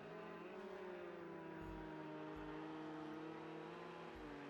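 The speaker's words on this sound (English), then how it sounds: "that LMP2 is loud." An LMP2 prototype race car in a racing game at the Algarve circuit gives off a faint, sustained engine whine that shifts slowly in pitch, with a few low thumps underneath.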